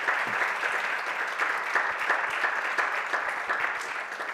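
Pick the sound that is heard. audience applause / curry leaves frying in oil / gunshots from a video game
audience applause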